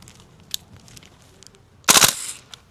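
A VFC M4 Colt gas blowback airsoft rifle fires a short, loud burst of rapid sharp cracks outdoors in the Philippines, with light clicks and quiet background sounds before it.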